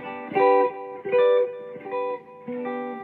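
Four triad chords on the high strings plucked on electric guitar one after another at an even pace, each ringing briefly with faint delayed repeats.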